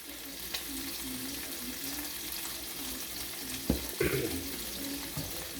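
Seafood risotto stirred in a pan, a steady close sizzle and frying hiss with soft scraping of the spoon and a couple of brief clanks near the end.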